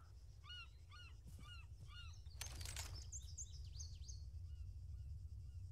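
Seagulls in the Arma 3 game give a series of short, repeated squawking calls, then a burst of noise and a few more scattered cries, moderately distant over a steady low rumble.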